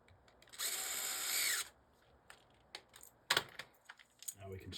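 Power drill driving screws during an arcade cabinet conversion from Kangaroo to Dig Dug: one loud, steady whir lasting about a second, followed by quieter clicks and handling knocks of parts being fitted.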